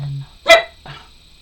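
A pet dog named Juliet gives a single sharp bark indoors, preceded by a low hum and followed by a softer second yelp, close to the listener.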